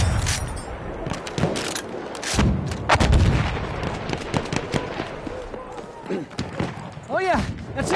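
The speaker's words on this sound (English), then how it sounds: "Machine guns!" Machine gun fire and explosions in Battlefield 1, heard as loud bursts of rapid shots and heavy blasts close by, with shouted voices over the battle.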